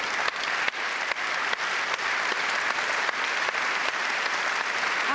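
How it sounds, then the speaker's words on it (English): Dense, loud applause from an audience at a football award ceremony during the UEFA Champions League group stage draw, a continuous wash of many hands with a few sharper claps standing out. "I'm going to give them again a big applause, and I hope you will join me."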